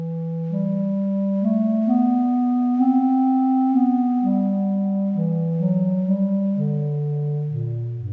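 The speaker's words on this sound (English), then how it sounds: "a subtle wind type sound that sounds like this" Soft wind-type synth tone from the Surge plugin, a sustained harmonic drone with slowly gliding pitch, steady and moderately loud, heard alone without any voice.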